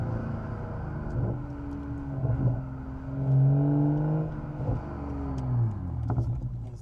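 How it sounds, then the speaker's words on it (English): A car engine revs through downshifts from inside the cabin, with a droning hum that rises and falls in pitch and swells in several surges. "Let's do some downshifts too. See what that sounds like."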